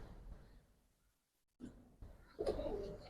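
Soft, low coos of Giribaz pigeons arrive near the end after a brief silent gap, with faint background rustle earlier.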